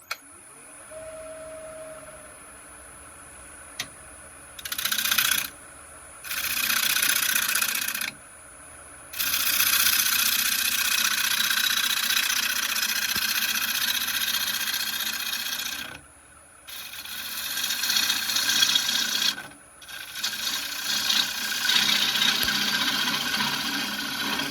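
Sycamore spins on a wood lathe while a tool trues up the face, producing a rough scraping rasp in repeated bursts separated by short pauses, close and fairly loud over a steady motor hum.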